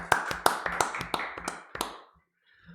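A handful of people in a small studio clap to welcome a rugby guest onto a podcast; about seven crisp, close claps in a loose rhythm, then they stop and quiet follows.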